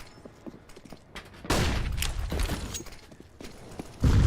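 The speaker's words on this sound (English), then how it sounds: "It's a good nade." A grenade bursts in a competitive shooter match, a sudden loud blast followed by lingering rumble and scattered debris, with another heavy impact hitting right at the end amid background game noise.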